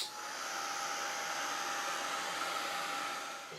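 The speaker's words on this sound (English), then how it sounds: "I'm going to take my heat tool and very carefully run it over to dry the India ink" A heat tool blows steadily to dry India ink on an embossed card, a constant close whooshing hiss with a faint whine that holds for a few seconds before easing slightly at the end.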